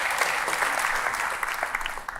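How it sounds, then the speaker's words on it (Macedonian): An audience at a comedy festival show in Skopje claps in sustained, dense applause, loud and continuous, fading slightly toward the end. "дајте аплауз за сите"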